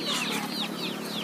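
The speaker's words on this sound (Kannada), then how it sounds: "ಹುಂಜನೇ ಜಾಸ್ತಿ ಇದಾವಲ್ರಿ ಇದ್ರಾಗೆ" Young crossbreed roosters and hens at a poultry market cluck in quick, overlapping rising calls, close and steady throughout, with no talking.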